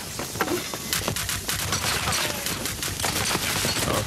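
Rapid gunfire in the shooter game Rogue Company, with dense overlapping bursts and cracks, loud and close, in a barrage lasting about four seconds with no talking.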